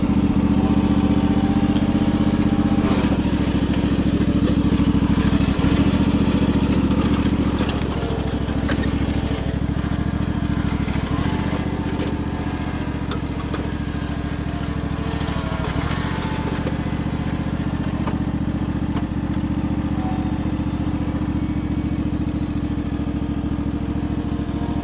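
A Cub Cadet 1040 lawn tractor's engine runs at a steady, loud mid-pitched drone as the machine pulls forward, holding a constant rumble throughout with no talking.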